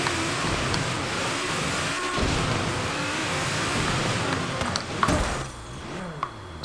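Car engine revving and drifting in the racing game Forza Horizon, a steady loud engine drone with tire noise throughout and a few sharp thumps near the end.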